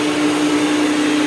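IEC Compact Electra C8 vacuum cleaner with power head running steadily, a loud continuous motor whine with a fixed tone and broadband airflow rush, close and alone.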